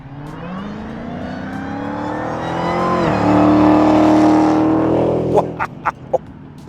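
A 2018 Dodge Demon accelerates hard, its engine note climbing in pitch and loudness as it passes close by, then settling with a few sharp pops as it fades.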